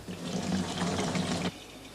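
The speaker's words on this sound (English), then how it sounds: "It's now time to fill the tanks and jerry cans with fuel and water for the long haul ahead." Water pours from a tap into tanks and jerry cans on an outback expedition, a close steady gushing that stops abruptly after about a second and a half.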